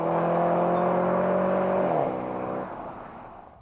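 A 2009 Dodge Challenger's engine accelerates close by, a loud rising whine with strong harmonics that climbs steadily, then drops sharply as the revs fall and fades toward quiet near the end.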